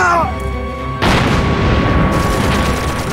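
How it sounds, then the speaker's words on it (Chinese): An artillery shell explodes on target in a war film, a sudden loud boom with a sharp onset followed by a long, dense rumbling roar that fills the remaining seconds. "陈总，打中了"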